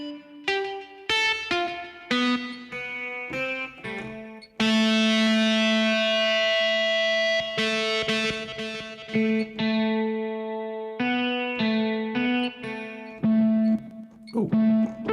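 A live looping app on an iPad plays layered synth notes through a loud distortion effect, giving sustained, buzzy, harmonic-rich tones that shift pitch in stepped phrases with short gaps.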